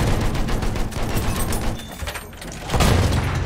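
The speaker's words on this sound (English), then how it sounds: "I'm taking a lot of mortar though." Mortar rounds pound a position in a war video game: a dense, continuous roar of booming blasts and scattered gunfire, with a heavier, louder impact near the end.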